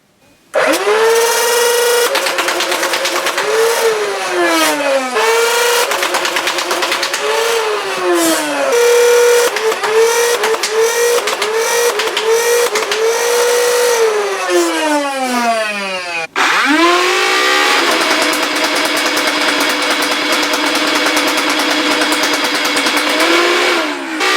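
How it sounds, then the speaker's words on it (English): Modified full-auto Nerf Mega Zeus and Rhino-Fire blasters fire darts in long sustained bursts, motors whining up and down with rapid flywheel pitch sweeps, loud and close, with a brief gap before a second burst. "Now let's go to a firing demo of the Nerf Zeus and the Nerf Rhino-Fire."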